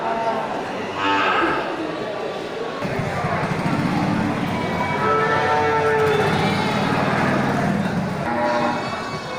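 A Brahman cow moos in long, drawn-out calls amid the busy crowd noise of the Lumpang Payung livestock market, with people talking nearby throughout.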